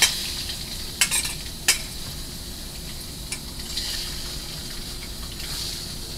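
Chicken pieces stir-frying in hot oil give a steady broad sizzle with a few sharp spatula scrapes and clinks early on, continuous and close throughout.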